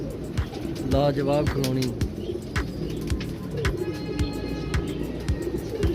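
Pigeons coo in repeated low, rhythmic calls close by, mixed with chirps and scattered clicks, while someone speaks briefly over them.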